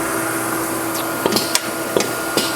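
A Royal Master TG12X4 centerless grinder runs with a loud, steady mechanical hum, broken by a few sharp knocks and clicks from the machine.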